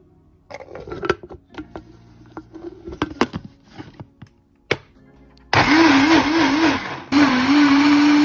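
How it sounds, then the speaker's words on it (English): Cooked soft potato is blended in a kitchen blender, which starts after some light clattering and handling noises and runs as a loud, steady whir, briefly stops, then whirs again at full strength. "So time to add it to the blender."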